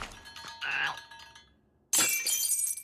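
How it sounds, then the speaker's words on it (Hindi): A cartoon sword breaks with a sudden bright, glassy shattering crack after a softer clinking scuffle, the snap loud and sharp in an animated movie scene. "ओह नो, तलवार टूट गई।"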